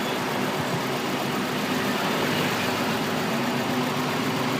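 Honda Accord engine idling with a misfire, a steady, moderately loud running drone heard close by and without any talking.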